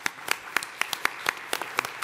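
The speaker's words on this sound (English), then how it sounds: "A last round of applause for the panel" Applause from a modest audience at an LGBT elder housing summit, a sparse patter of separate, distinct claps rising and falling irregularly, fairly close and moderately loud.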